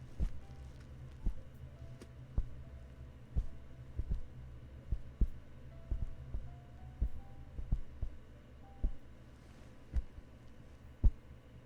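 Headphone ear pads tapped in a steady, soft double-thump rhythm to mimic a heartbeat, close and alone with a faint background hum.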